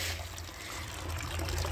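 Water trickling at a roadside water source, a steady, close splashing flow over a low background hum, with no one speaking.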